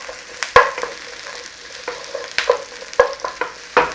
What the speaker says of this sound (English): Onions and garlic. Quick sear on that.